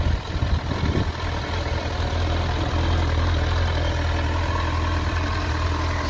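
Suzuki Bandit GSF 650 motorcycle engine idling on a cold winter start, a steady low rumble that stays even and fairly loud throughout, with no voices.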